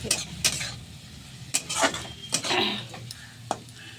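Radish greens fry in a pan while a utensil scrapes and clinks against the metal in irregular strokes, with a soft sizzle underneath, close by and moderately loud.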